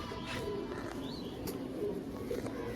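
Kaldama and red Siya hen pigeons cooing softly nearby, a few low, rounded coos over faint background noise, with no talk heard.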